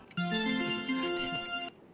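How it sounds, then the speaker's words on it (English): A phone rings in Batman: Arkham City, one steady electronic ringtone with a bright, tonal melody that starts abruptly, holds loud and clear for about a second and a half, then cuts off. "let's get a Zaz phone call now."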